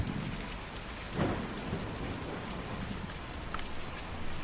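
Heavy rain from a stormy night in the game Kentucky Route Zero pours steadily, with a soft low rumble of thunder swelling briefly, all in dense continuous noise without speech.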